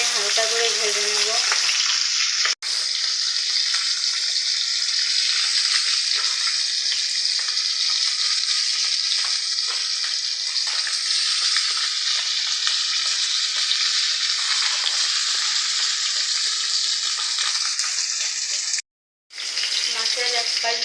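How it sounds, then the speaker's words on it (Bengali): Koi fish lightly frying in oil for a curry with eggplant and potato, a long unbroken hiss of sizzling close by with two brief dropouts, steady and fairly loud throughout. "মাছগুলো আমি হালকা করে ভেজে নেব।"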